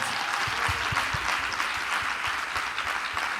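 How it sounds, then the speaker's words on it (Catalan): A live comedy-show audience breaks into steady, dense applause, a sustained wash of many hands clapping at close range with no voices over it. "Un aplaudiment."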